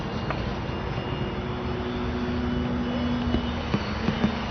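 A Dynam Sbach 342 four-channel aerobatic RC plane flies rolling loops over a calm Southern California field, making a steady buzzing electric motor drone at a moderate distance, with a few faint clicks and no talking.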